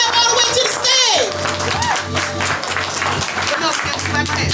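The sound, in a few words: audience clapping as poet walks to stage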